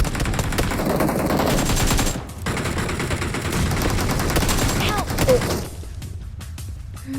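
Rapid gunfire bursts from a PUBG Mobile match ring out loud and nearly continuous, with brief pauses and a final stretch of quieter scattered shots.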